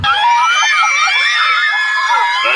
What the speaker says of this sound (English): The deafening scream can mean only one thing.